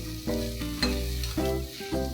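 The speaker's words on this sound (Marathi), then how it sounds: "आता आपण त्याच्यात अर्धा चमचा हळद आणि 2 चमचे लाल तिखट घालून पुन्हा एकदा काही सेकंदासाठी परतून घेऊया" Turmeric and red chilli powder sautéed with ginger-garlic paste in a pan, a soft steady sizzle with a few scraping stirs.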